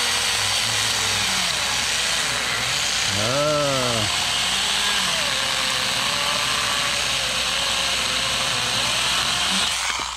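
Stihl GTA26 mini cordless chainsaw cutting wood, a constant buzzing motor whine with a brief rising and falling pitch sweep as it bogs, close and loud, with a voice heard briefly.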